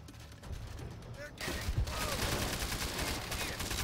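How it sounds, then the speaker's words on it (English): Machine gun fire in World at War, a World War II shooter game: a dense, continuous burst of rapid gunfire that kicks in loudly partway through and sustains over game ambience. "I got a machine gun."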